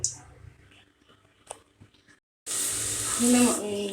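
Fish frying in hot oil in a home kitchen, starting with a few quiet clinks and taps, then a sudden loud, steady sizzle that continues to the end.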